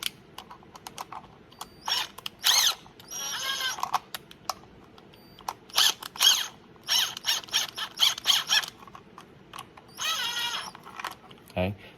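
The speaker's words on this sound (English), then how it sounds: "This is an impact driver" A cordless impact driver running gently without hammering as it tightens screws into a PHLster City Special Griphook holster, giving several short bursts of whirring separated by pauses and light clicks, close by.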